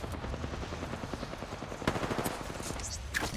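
Rapid automatic gunfire from the video game Apex Legends, a dense rattling stream of shots with a sharper burst partway through, fairly low in level.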